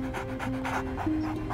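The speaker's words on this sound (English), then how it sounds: "panting is a sign that they're already too hot" A dog pants heavily in quick, steady rhythmic breaths throughout, close and fairly loud, overheated, with no talking.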